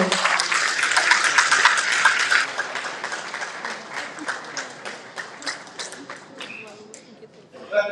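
Sustained audience applause after a speech at a Haitian event, dense and loud at first, then thinning into scattered individual claps that fade toward the end.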